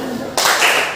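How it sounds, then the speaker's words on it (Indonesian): A classroom group bursts into brief applause, a sharp wash of clapping that starts suddenly after a moment of quieter background sound. "Bagus, beri tepuk tangannya sekali."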